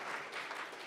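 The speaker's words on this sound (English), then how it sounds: "another round of applause for Jane" A brief burst of crowd applause, fairly faint and steady, with no talking.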